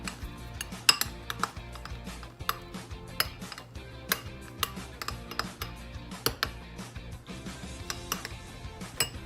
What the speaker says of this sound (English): grab your mixing utensil and mix it together